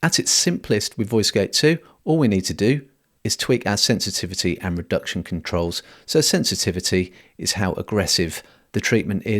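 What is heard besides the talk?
No everyday noises stand out.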